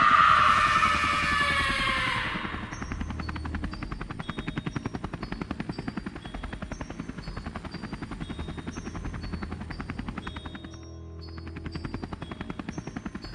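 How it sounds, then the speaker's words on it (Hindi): A cartoon helicopter flies after an alien in a horror story fight, its rotor chopping steadily and loudly for many seconds with a faster rattling pulse, after a brief whooshing effect at the start. "फिर वो एलियन उड़ता है और बाबा गुल्ली बुल्ली सॉन अपनी अपनी हेलीकॉप्टर में बैठकर उसके पीछे पीछे जाते हैं।"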